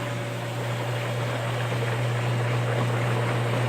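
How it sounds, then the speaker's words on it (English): Steady, loud rushing of churning water from hot tub jets with a constant low motor hum underneath, continuous throughout with no voices. "system with a lot of jets that hit the water to warm up your body"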